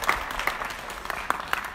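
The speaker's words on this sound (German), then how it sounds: "Vielleicht auch mal jetzt schon mal einen Applaus für Mascha" A small audience at a balcony concert in the Wöhlertgarten claps briefly. The clapping is loose and scattered, close and lively.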